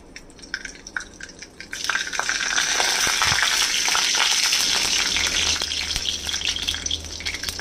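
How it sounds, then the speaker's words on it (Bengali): Mustard seeds hit hot mustard oil for tempering, setting off a sudden, loud sustained sizzle with scattered crackling pops after a few light drips, close up and without talk. "তেলটা গরম হয়ে গেছে, এটার মধ্যে এই সর্ষে ফোড়ন দিয়ে দেব।"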